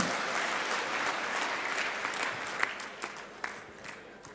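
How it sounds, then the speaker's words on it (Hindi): Audience at a crop insurance payout event in Betul welcomes Chief Minister Shivraj Singh Chouhan with applause, a dense wash of clapping that thins out, with a few louder individual claps toward the end. "आइए जोरदार तालियों से उनका स्वागत करें।"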